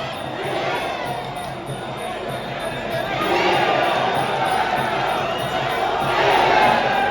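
Crowd at a Muay Thai bout cheers steadily throughout, a dense roar of many voices that swells louder in the second half, with rhythmic chanting surges.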